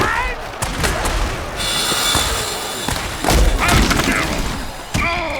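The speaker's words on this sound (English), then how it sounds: "Oh, that's a vicious hit" Heavy thuds and impacts from a hard tackle in an American football video game, several loud booming hits over crowd noise, with an announcer's voice.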